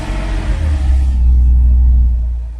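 A 2009 Porsche 997 Carrera 4S PDK Cabriolet's engine turns over and catches, settling into a deep, loud, steady idle rumble heard up close.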